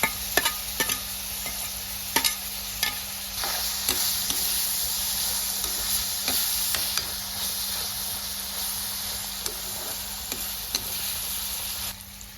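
Curry leaves, onion and tomato sautéing in a pan give a loud, continuous hissing sizzle with steam, while occasional sharp clicks of a stirring spoon cut through and no one speaks.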